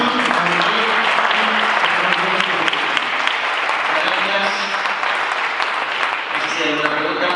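Sustained applause from an audience at a Maker Faire project pitch session, a dense, loud, even wash of clapping that holds steady throughout with a few voices murmuring underneath.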